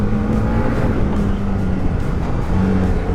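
Can-Am Maverick R side-by-side engine revving while riding, a loud continuous throaty roar with rising and falling pitch as the throttle changes, heard up close from the cab.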